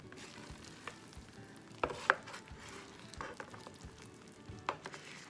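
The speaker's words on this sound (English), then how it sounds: "Also my pistachios. Do just a gentle mix in." A spoon gently folding pistachios and raisins through sticky teiglach in a pot, soft irregular scrapes and a few light clinks of utensil on the pan, quiet and close with no talking.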